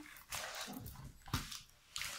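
A dog indoors gives a few short, soft barks and whimpers at moderate distance over a quiet room, with no talking.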